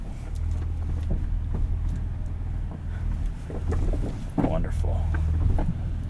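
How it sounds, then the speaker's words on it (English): A 2026 Ford Ranger Raptor idles in 4 low over rocks on a short off-road course, a steady low engine rumble heard from inside the cab with occasional knocks and scrapes and wind noise. "in 4 low, we are just idling through"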